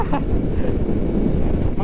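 Wind hits a rider on a moving Royal Enfield Shotgun 650 motorcycle and roars steadily into the microphone as a loud, low buffeting rush that never lets up.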